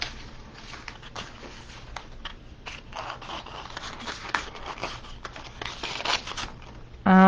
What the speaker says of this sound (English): I'm going to cut my template roughly to my wafer paper roughly to the size